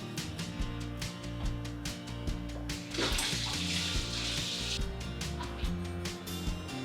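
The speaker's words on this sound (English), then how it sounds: "I'm now going to rinse off the salt." Tap water runs and splashes as salt is rinsed off hands, a hiss of flowing water that swells in the middle and fades, over a soft background hum.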